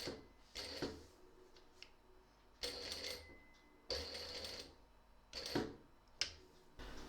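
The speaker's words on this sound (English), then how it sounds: "now we're going to stitch along this line here to join the two pieces" A sewing machine stitching two fabric pieces together along a line, running in several short bursts separated by brief pauses, close and fairly quiet.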